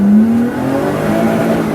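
A Lotus Exige S sports car accelerating hard, its engine note rising in pitch as it pulls away, a loud, close, continuous roar with no talking over it.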